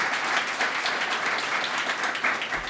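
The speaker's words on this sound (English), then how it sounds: "I just want to give him a round of applause" Applause from a crowd at an outdoor ribbon-cutting press conference for an apartment complex, steady, moderately faint clapping that carries on evenly without voices on top.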